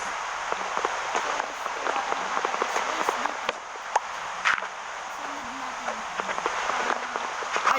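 Steady broadband rain hiss in a Minecraft One Block Sky Block world, continuous throughout with faint clicks and short game sounds scattered over it.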